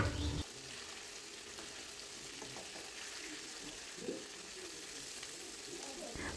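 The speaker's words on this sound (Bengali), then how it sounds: "আর গ্যাসের আঁচটা চড়া রেখে কিন্তু মাছগুলো ভাজতে হবে" Pangas fish frying in a pan on high flame give a faint, even sizzle that carries on steadily, broken by a short louder burst near the start and a small bump midway.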